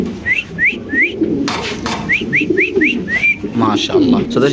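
Low cooing from fancy pigeons at a pigeon farm runs under a series of short rising whistled chirps, with clattering and movement noises nearby.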